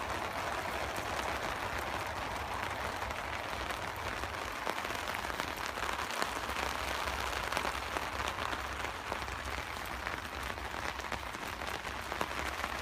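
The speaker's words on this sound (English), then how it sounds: "The rain's coming down now." Steady rain drums on a tarp stretched over a canvas tent at a solo woodland camp, a dense continuous patter that stays even and close throughout with no talking.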